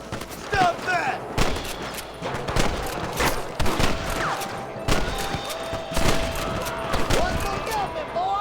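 Repeated gunfire in a Red Dead Redemption shootout against rustlers, with volleys of sharp, loud shots in irregular bursts across the clip. Shouting and game noise sit underneath.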